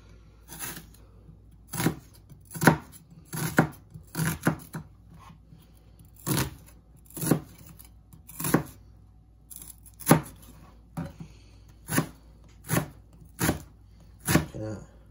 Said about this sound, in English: So I am getting better at the onion chopping.